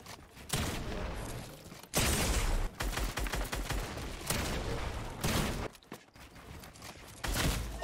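Assault rifle fire in the Fortnite video game, coming as several loud broadband bursts of gunfire separated by short gaps, with mechanical clatter and movement between the shots.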